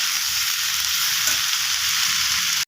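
Broad beans and potatoes frying in a pan give a steady, loud hiss of sizzling oil that runs almost unbroken for nearly three seconds, then cuts off abruptly.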